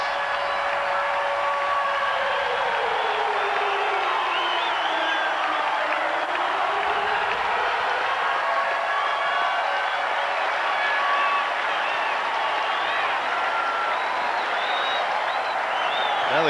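Crowd at Milwaukee's County Stadium cheers and applauds a Brewers home run against the Giants in 1998, with a broad, roaring ovation sustained throughout and a sweeping tonal sound passing beneath it.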